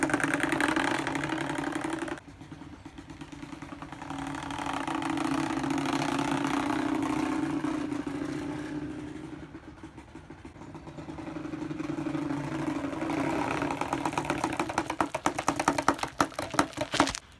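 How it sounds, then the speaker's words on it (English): A steady, buzzing engine-like drone with a throaty idle character from a plastic water bottle sound pipe on a beach cruiser bicycle, rising and falling in intensity over several seconds, with a brief dip near the start. "plastic water bottles that emulate the sound of a motorcycle"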